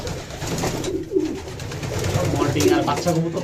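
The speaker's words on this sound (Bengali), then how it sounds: "জামাল ভাই যে কবুতর আছে" Racing pigeons coo in a loft, low soft throaty calls that repeat close by while someone talks over them.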